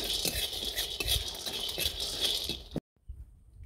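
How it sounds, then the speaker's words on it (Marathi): Peanuts dry-roasting in a pan for masala vangi, rattling and scraping as they are stirred, close and busy for under three seconds before cutting off abruptly. "शेंगदाणे भाजून घेणार आहोत."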